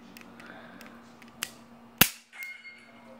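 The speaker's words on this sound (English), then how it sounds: "I'm shooting using a laser, red laser, using my CZ" A CZ PCR pistol dry-fired indoors with a red laser trainer gives a few faint mechanical clicks, then one sharp, loud snap of the trigger and hammer, with quiet room tone in between.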